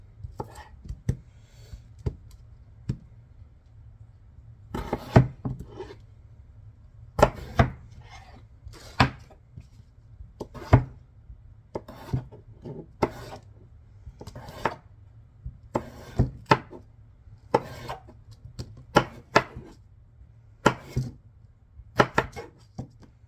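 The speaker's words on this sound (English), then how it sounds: "I'm going to do a couple potatoes at a time. And we're just dicing them." A knife dices potatoes on a cutting board, two potatoes at a time, in crisp, fairly regular chopping knocks that sometimes come in quick clusters, close by and with no talk.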